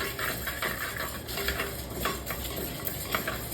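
Cumin, dried chillies and tamarind being sautéed in a pan for appala kulambu, with a soft oil sizzle under repeated scraping and clinking strokes of a spoon against the metal.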